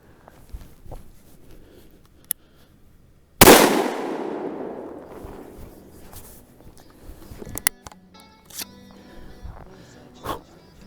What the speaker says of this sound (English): Let's see how it shoots through the Stoeger Uplander.